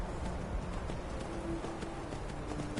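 Horse hooves clop in a steady, quick rhythm in the video game The Elder Scrolls 5: Skyrim, fairly close and continuous over a soft background hum.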